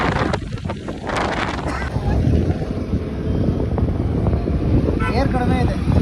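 A new bike or scooter is ridden on a road, and heavy wind buffets the microphone as a dense, rumbling roar throughout. A voice talks briefly near the start, and the engine is buried under the wind noise.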